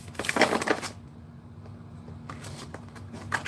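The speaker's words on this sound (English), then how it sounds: "Oh no, let's shuffle again." Tarot cards are shuffled in a close, papery burst of rapid riffling, followed by a quieter pause and then softer shuffling and handling sounds, with no talking.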